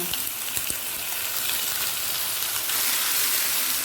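Onion paste sizzles in hot mustard oil with a pinch of whole cumin, a bright crackling hiss close by that stays steady and grows slightly fuller toward the end.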